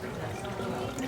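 Water runs briefly and steadily over a stained lab slide, rinsing away acetone used for differentiation, a close, even splashing stream lasting about a second.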